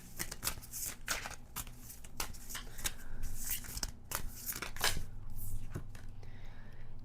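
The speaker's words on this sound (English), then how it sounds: "As I was shuffling" A deck of cards is shuffled repeatedly at close range, giving a rapid series of crisp riffling bursts and snaps spread across seven seconds, with low room hum underneath.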